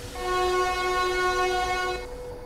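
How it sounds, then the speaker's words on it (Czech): BR 232 diesel locomotive horn in Train Simulator 2013, one loud sustained multi-tone blast lasting about two seconds before cutting off, alone over low engine rumble. "Taky pěkná houkačka."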